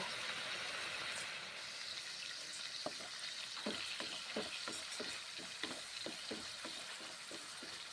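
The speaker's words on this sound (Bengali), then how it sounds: "মশলা ভালো করে কষে নেব।" Turmeric and salt sizzle in hot oil in a pan, a constant frying hiss broken by a rapid run of scraping stirs from a spatula in the second half.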